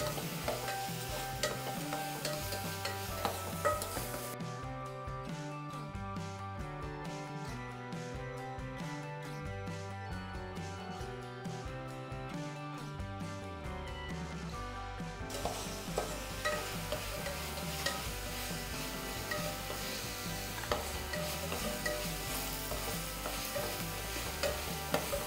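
Ginger garlic paste sautéing in a pan over a medium flame, a steady sizzle with repeated scraping stirs, set under continuous background music.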